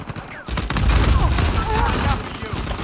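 Dense, continuous gunfire from a solo ranked multiplayer shooter game, a loud volley of overlapping shots filling nearly the whole stretch after a brief quiet start, with a few voices faintly underneath.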